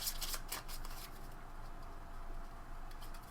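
A deck of Arcadia Quest board game cards is shuffled up close, with a quick burst of riffling flutter at the start that fades into a soft, steady hiss.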